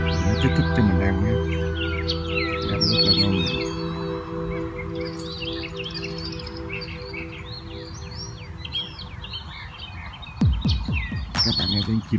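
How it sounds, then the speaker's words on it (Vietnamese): Birds chirp and sing outdoors on a quiet weekend morning in Tennessee, with many overlapping calls, a low steady hum beneath, and a couple of louder bursts near the end. "Các bạn nghe tiếng chim hót không?"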